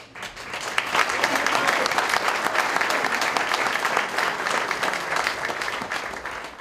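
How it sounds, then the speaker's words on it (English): An audience at a conference opening session bursts into applause, building within a moment into steady, dense clapping that holds for several seconds before starting to thin near the end. "how about big hand of applause?"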